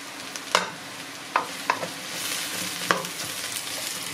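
Champignon mushrooms fry quietly in a pan with a soft steady sizzle, broken by a few sharp clinks and scrapes of stirring, with no talk.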